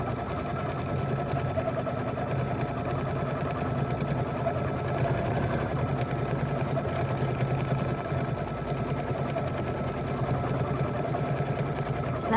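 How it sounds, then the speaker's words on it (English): A Brother Luminaire sewing machine runs steadily while stitching a quilt block, its motor whirring in a continuous, even drone with fast needle rhythm throughout, close and moderately loud, with no talking. "So I am ready to start stitching."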